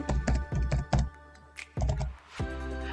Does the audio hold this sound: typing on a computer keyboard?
yes